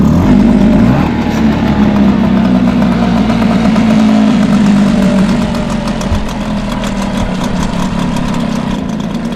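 A Hangkai outboard motor idles a little low, a steady, loud, continuous putter with a rough low rumble that holds evenly for the whole stretch with no voices over it.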